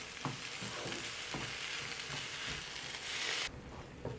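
Shakshuka filling sizzles and fries in a pan under a steady hiss, with a spoon scraping and stirring through it in repeated soft strokes, close and continuous, easing off slightly near the end.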